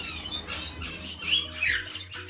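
A Bourke's parrot gives a series of shrill, scratchy squawks close by, repeated in uneven bursts over a low background rumble.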